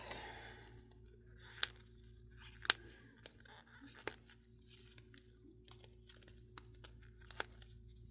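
Resin turtle-shaped solar light being trimmed, with sharp scissor snips and crisp clipping clicks scattered irregularly over a quiet background, several louder cuts standing out close by.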